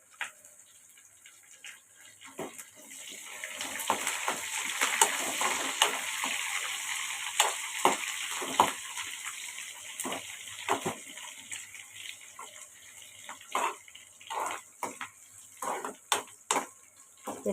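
Garlic and curry leaves fry in a pan for pickled broad bean chutney, giving a soft, continuous sizzle broken by frequent clinks and scrapes of a spoon stirring against the metal.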